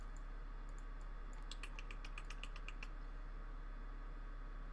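A computer keyboard clicks in a brisk burst of faint, crisp keystrokes over a steady low hum, the taps clustering in quick runs before falling silent.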